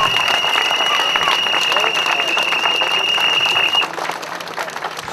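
A crowd applauds a rally crew at a post-rally interview event, a dense, steady wash of clapping that holds for about four seconds and then thins out.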